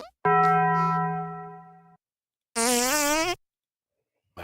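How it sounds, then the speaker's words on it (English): A comic fart sound effect plays twice: first a long buzzing, tonal blast, then after a short silence a second, wobbling, brassier one, both loud and clean with no talk over them. "There it is. The fart sounds."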